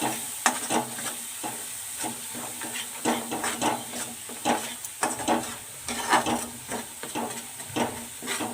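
Food seasoned with salt and turmeric cooks in a pan, a steady close sizzle punctuated by rhythmic scraping strokes of a spoon stirring through it, with no one talking.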